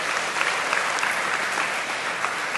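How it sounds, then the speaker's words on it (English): An audience claps steadily and densely throughout, a full, even wash of applause at a business talk event, loud and sustained with no pauses. "We should give him a big round of applause for that."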